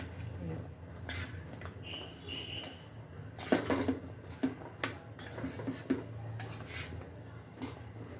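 Carrot pickle pieces are stirred with masala in a bowl, a utensil scraping and clinking against the dish in irregular strokes, fairly faint, with occasional sharper knocks in the middle stretch.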